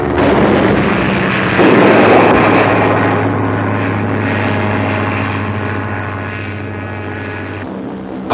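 German Luftwaffe aircraft on a bombing raid drone with a heavy, steady propeller roar that slowly fades a little, with a low rumbling undertone and no voices.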